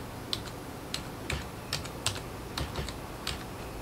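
Irregular keystrokes on a computer keyboard as crossword words are entered, about a dozen soft, close taps with short pauses and no talking.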